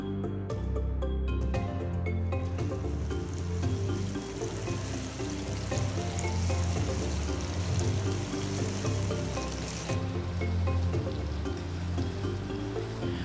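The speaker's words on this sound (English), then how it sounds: "Pick out all the meat pieces and fry on medium heat." Rabbit meat pieces deep frying in hot oil over medium heat for Sichuan orange peel rabbit give a dense, continuous close sizzle and bubbling with no voices.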